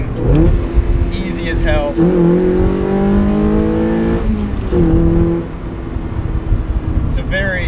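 Tuned NB Mazda Miata engine blipping and revving during rev-matched downshifts, rising and falling tones close and loud, with a person talking over it at the end.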